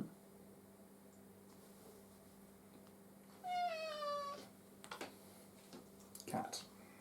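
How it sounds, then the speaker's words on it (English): A cat lets out one drawn-out meow during a Netrunner board game session, fairly clear against a quiet room hum, with a few faint clicks and a brief sound after it. "Cat."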